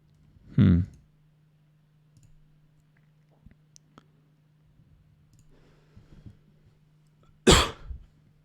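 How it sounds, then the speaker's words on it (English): A man coughs twice, once near the start and once toward the end, both loud and close, with quiet mouse clicks and a low electrical hum between them in an otherwise quiet room. "Sorry about the cough there"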